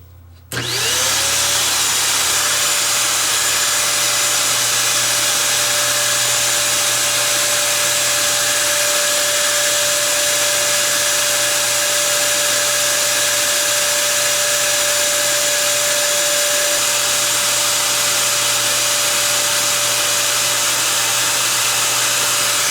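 The motor of a Bissell Power Stick vacuum, taken out for repair after a fault, whirs up from a standstill to a steady high-pitched whine and keeps running loud and unbroken for over twenty seconds.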